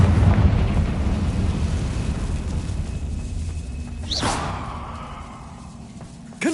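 A Confringo spell blast in Hogwarts Legacy goes off partway through, a sharp whooshing burst with a short rumbling tail, rising out of a steady low ambient drone of the game's old, abandoned staircase area.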